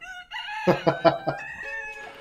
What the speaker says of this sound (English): first we're going to make this rooster crow